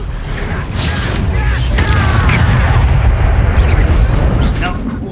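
Confringo blast spells exploding during a spell-heavy duel in Hogwarts Legacy: a loud, continuous rumble of booms and crackling blasts, with a voice faintly mixed in.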